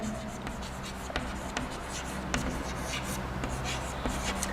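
Chalk or marker writing on a board in a classroom, a continuous series of quick scraping strokes and taps over steady background hum, without speech.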